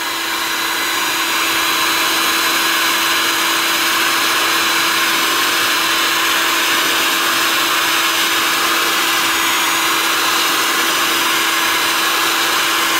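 A heat gun blasts hot air onto a circuit board while desoldering components, a loud, steady, broadband rushing roar with a constant motor hum and no pauses.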